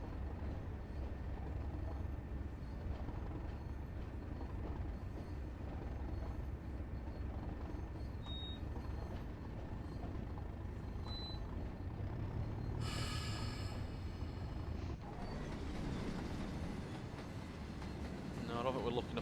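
A coal freight train of steel wagons rolls past on the Tees Valley Line in Train Sim World, a continuous low rumble and rattle with a brief hiss of air brakes partway through.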